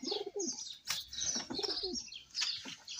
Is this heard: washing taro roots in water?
no